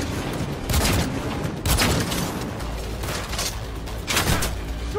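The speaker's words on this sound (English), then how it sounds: "They're opening fire!" Video game gunfire rattles in bursts of rapid shots, loud and close over a steady noisy background, with a few heavier volleys.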